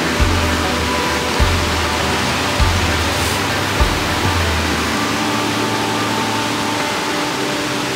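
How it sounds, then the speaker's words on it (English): A roadside waterfall in the Smoky Mountains rushes in a loud, steady wash of falling water heard up close, with a few dull thumps early on. "one of the coolest things about the Smokies is just all the random waterfalls you got on the side of the road"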